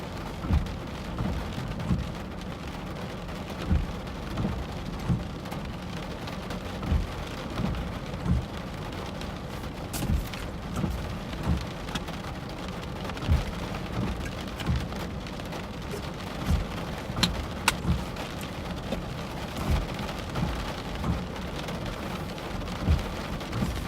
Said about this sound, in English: Here we go, now we're in the rain.